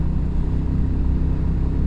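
A Royal Enfield Classic 350 single-cylinder engine pulls at wide open throttle in fifth gear at about 45 mph, giving a dense, loud, pulsing low rumble.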